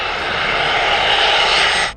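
An Embraer Legacy 500 private jet roars with a steady, loud engine sound, a broad rushing whine that holds for about two seconds before cutting off sharply, with no talking.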